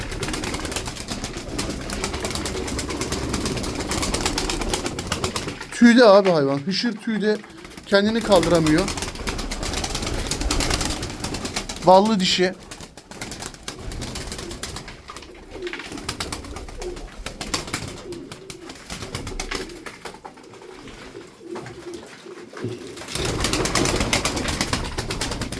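Tumbler pigeons coo in a loft or yard, soft repeated calls with occasional wing flaps, heard close under steady male speech in Turkish.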